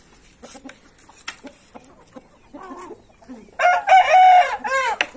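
Scattered clucks from chickens, then a loud nearby crow from a gray rooster, with a second rooster crowing briefly at the end.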